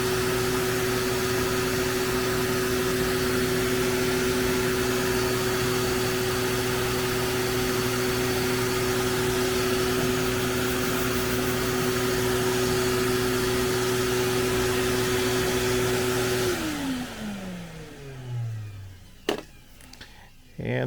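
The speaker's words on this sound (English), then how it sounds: "turn on the shop vac." A shop vac powers a scrap-built vacuum table with a loud, steady roar and drone, then winds down with a falling pitch near the end, followed by a few clicks and knocks.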